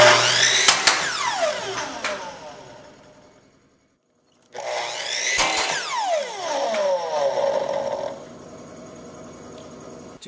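A chop saw cuts a workpiece that sits about a quarter inch off the fence. The motor spins up with a loud whine, bites the material, then winds down, and the sequence repeats after a short silence.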